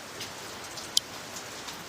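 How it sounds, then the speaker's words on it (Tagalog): Heavy rain falls as a soft, steady patter with one sharp drip or tap standing out briefly, fairly faint and without voices. "Hindi ako makatawid kasi nga super lakas ng ulan dito."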